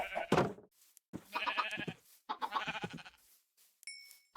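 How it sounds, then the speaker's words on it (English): A couple of sheep bleats in a video game, fairly close and clear, followed by a bright chime at the end. "Do we get another sheep? Do we get a little lamb?"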